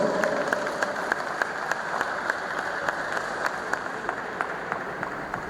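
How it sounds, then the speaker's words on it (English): Audience applause at a university inaugural lecture, a steady wash of clapping with a few sharp individual claps standing out at regular intervals, sustained throughout. "Please give him a round of applause, please."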